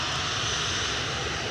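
A passenger airplane's engines roar steadily and loudly at Edinburgh Airport, a broad continuous rumble and whine with no voices.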